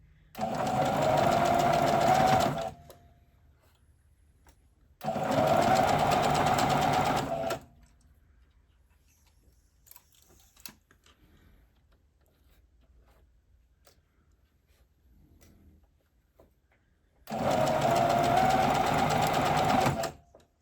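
A sewing machine stitches a t-shirt seam on a raglan tee in three separate steady runs of a few seconds each, with long quiet gaps of fabric handling between them.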